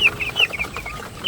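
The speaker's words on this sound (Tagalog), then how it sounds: "nilagyan po namin ng pagkain yung manok" Chickens cluck in short, repeated, close calls while being fed, several birds overlapping in a quick, busy chatter.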